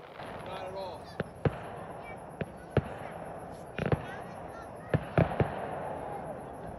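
Fireworks burst at an outdoor traditional archery rendezvous, a scattered series of sharp cracks and booms at uneven intervals, some close together, with faint voices in the background.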